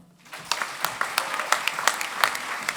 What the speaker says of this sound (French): Et encore des applaudissements pour Simon.